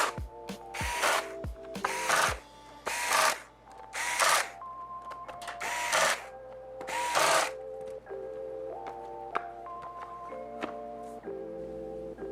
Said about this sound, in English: And then you can tighten the screws back up.